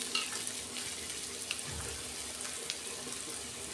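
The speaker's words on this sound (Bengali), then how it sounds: "পেঁয়াজটা আমি 2 মিনিট ভেজে নেব।" Onions frying with a little salt in a pan for a prawn and cauliflower dish, a soft continuous sizzle with occasional light stirring ticks, fairly quiet and without speech.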